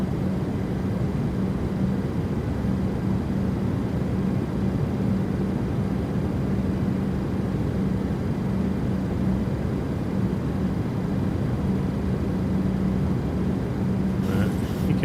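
A Boeing 737-700 in Microsoft Flight Simulator holds a steady, even engine roar with a constant low hum underneath, droning without change for the whole stretch.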